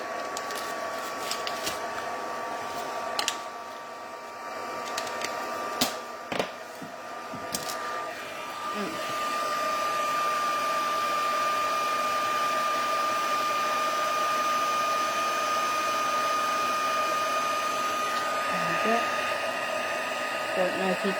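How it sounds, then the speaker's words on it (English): Embossing heat tool blowing hot air, a steady whining whoosh that starts after a few clicks and handling noises and then runs continuously and evenly at close range. "just let our heat tool warm up for a moment."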